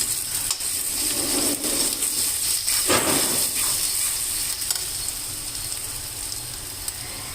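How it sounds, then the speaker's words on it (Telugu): Ginger garlic paste fries in hot oil with a steady sizzling hiss, punctuated by a few soft clicks and scrapes, no one speaking. "అల్లం వెల్లుల్లి వేగింది."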